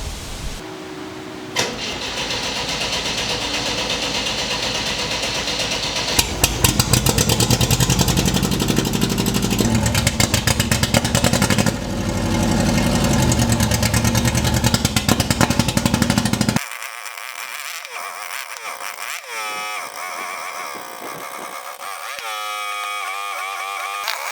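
An MGB sports car engine running rough makes a loud, sustained, uneven rumble with irregular pulses for most of the stretch, then cuts out, leaving quieter speech afterward.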